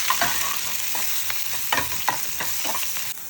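Mustard seeds, dried red chilli and ground garlic paste tempering in hot coconut oil give a steady close sizzle with faint crackles and spoon scrapes throughout, and no voices.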